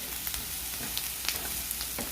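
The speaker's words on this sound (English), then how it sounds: "just saute this for maybe another 2 to 3 minutes to get the garlic all fragrant" Garlic sautéing in a pan for a tofu dish, a steady soft sizzle with faint scattered crackles and stirring ticks, fairly quiet and alone.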